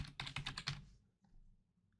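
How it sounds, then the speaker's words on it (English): Quick, close keystrokes on a computer keyboard enter a username and password in a short run of about five taps, then fade into near silence. "I'm gonna type in the username and password"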